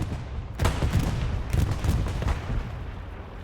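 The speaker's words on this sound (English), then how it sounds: "Wait, that's a CoRe bombing run." Bombing run in the Hürtgen Forest battlefield game, two clusters of rumbling explosions and rapid crackling blasts rolling in close succession, loud and booming with a reverberant tail.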